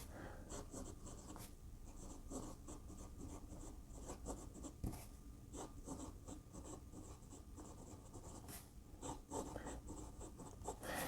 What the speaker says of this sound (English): Let's do an actual full writing sample real quick.